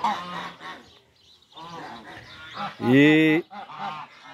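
Geese on a farm give a loud, close honk partway through, with quieter calls around it and someone talking over part of it.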